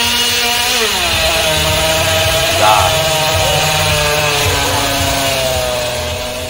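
A water-cooled Puch Maxi 88cc moped engine screams at full throttle, a loud, steady high-pitched two-stroke wail held with slight rises and dips in pitch, close by, with no talking.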